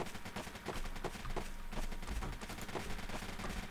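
Rapid gunfire crackles in a video game, dense repeated bursts of shots at a fairly fast rhythm, somewhat distant and low in level, continuing throughout with no talk over it.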